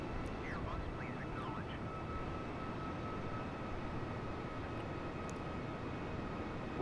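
Steady airliner engine drone from Microsoft Flight Simulator 2020 during a Chennai to Bengaluru flight, a constant broadband roar with a faint tonal hum that holds at even loudness throughout.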